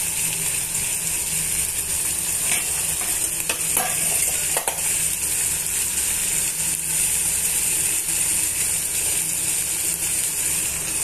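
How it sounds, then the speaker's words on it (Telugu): Chicken fries in a pan with a dense, steady sizzle and intermittent scraping stir clicks, close up and continuous, with no one talking. "బాగా వేగిన తర్వాత ఒక 2 మినిట్స్ వేగనివ్వాలండి."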